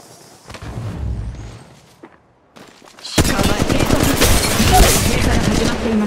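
Gunfire from Apex Legends Mobile, with a few sparse shots and a quiet gap before a loud, sustained burst of rapid automatic fire and impacts that fills the second half.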